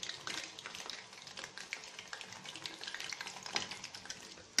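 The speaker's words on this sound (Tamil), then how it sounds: "இது மாதிரி நம்ம எண்ணெயில் பொரித்து எடுக்கிறம்போது" Eggplant pieces sizzle and crackle steadily in hot oil for a Tamil oil-brinjal curry, with dense frying spatter and occasional stirring taps as they are turned in the pan, close and continuous without talk.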